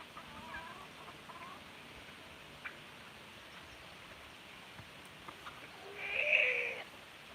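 A single cat meow, fairly faint, arrives near the end after several seconds of quiet outdoor background on a rural South Dakota farm, with a few soft clucks earlier.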